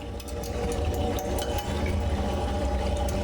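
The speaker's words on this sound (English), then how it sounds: "The only sound is the low, menacing hum of the ventilator and the running water filling the void." Steady running water in a visual novel scene, a constant close rushing flow layered over a low droning hum, with no breaks.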